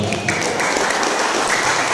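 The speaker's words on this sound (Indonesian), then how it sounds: "Tepuk tangan dulu dong." Applause at an umrah pilgrimage seminar, a dense, loud, even wash of many hands clapping together that runs steadily throughout.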